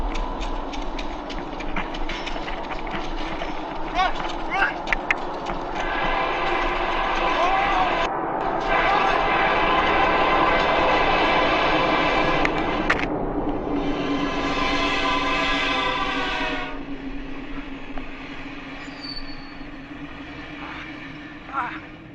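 A train roars past nearby inside a tunnel with rumbling wheels and rattling clatter, building to a loud, sustained rush before fading away, a voice briefly audible.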